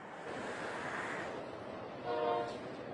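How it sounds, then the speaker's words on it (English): Union Pacific freight train rolling along a stretch of track near Elk Grove, a steady distant rumble and roar with a brief faint horn-like tone toward the end, no talking. "there is a Union Pacific freight train that is using this stretch of track right now."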